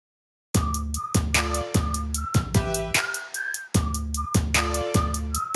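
A whistle beat music track plays back, with a repeating rhythmic beat of crisp percussive hits under a melodic whistled line, loud and steady, pausing briefly before the pattern resumes.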